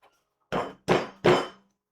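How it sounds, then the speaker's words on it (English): Three hammer blows drive a part into a couch frame, each a loud, sharp knock about a third of a second apart, with silence between them. "In fact, I bet you could probably hammer it in."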